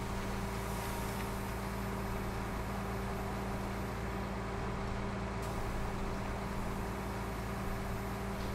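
A tractor engine in Farming Simulator 19 drones steadily and loudly throughout, holding a constant low pitch as it pulls along a field headland, with no talk over it.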